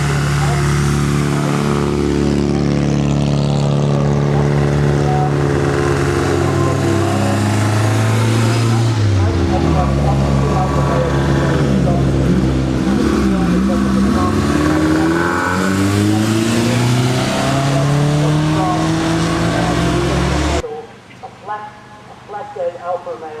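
Alfa Romeo cars climb the hill at Shelsley Walsh in a parade, with loud, close engines revving and rising in pitch as they pass, before the sound falls away to quieter background noise.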